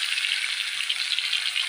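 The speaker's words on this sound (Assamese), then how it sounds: "তেল ফুটি পৰি যায় গাত, বহুত ফুটে মাছ" Fish fry in hot oil in a kadai, a dense, continuous sizzle and sputter heard up close without pause.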